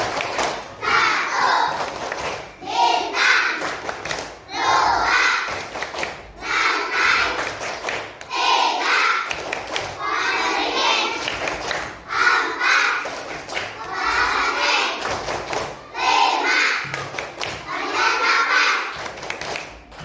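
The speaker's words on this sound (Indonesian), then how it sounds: "Tepuk lambang Pancasila." A class of schoolchildren performs the rhythmic Pancasila symbol clap, chanting in unison in bursts punctuated by sharp group claps and thumps, repeating in a steady pattern nearby.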